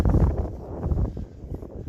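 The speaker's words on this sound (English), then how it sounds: "it's quite windy up here" Wind buffeting the microphone on an exposed island hilltop, a loud continuous low rumble that gusts and eases over two seconds with no other sounds.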